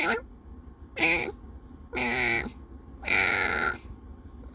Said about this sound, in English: my little boy cat, he has his own meow.